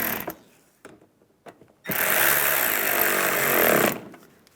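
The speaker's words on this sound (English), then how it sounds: "And put the screws back in. Tighten those down." A power driver whirs for about two seconds driving screws into the front inner fender liner of a 2011-2015 Chevrolet Cruze, preceded by a few faint clicks and handling taps nearby.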